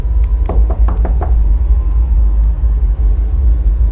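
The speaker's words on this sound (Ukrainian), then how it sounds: "Диви, стукає." Knocking on a locked door in a horror game: about five quick, fairly loud raps in a tight cluster, then a steady low rumble of background music that continues alone.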